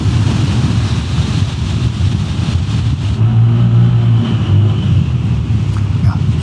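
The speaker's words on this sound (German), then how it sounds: "Sound auch absolut in Ordnung, Auspuff klingt gut, nicht zu laut, trotzdem mal ein schöner dumpfer Klang." Lambretta G350 scooter on the road, a steady muffled exhaust drone under heavy wind rush, the engine note rising slightly as it pulls along, with no talking.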